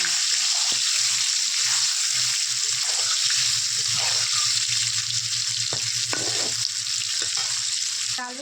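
Water poured into a pan of dal with raw mango, a dense steady hissing rush that stays loud and even throughout, ending with a brief taper.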